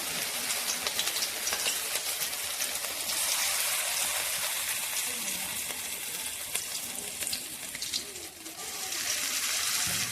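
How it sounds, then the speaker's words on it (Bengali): Cabbage fritters (bora) dropped into hot oil, a steady bright sizzle and crackle filling the whole stretch, close and continuous with no talking. "এখন বাঁধাকপির বড়াগুলো ছেড়ে দেব"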